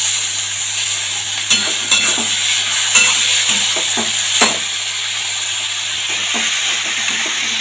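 Kharkol greens frying and being stirred in a pan, with a steady loud sizzle and hiss throughout and several soft clinks and scrapes of stirring, no talk.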